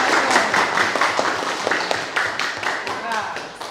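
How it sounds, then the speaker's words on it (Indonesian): Students in a junior high school classroom clap together in a dense burst, the applause mixed with thumps and a murmur of voices and fading slightly toward the end. "Tepuk tangan."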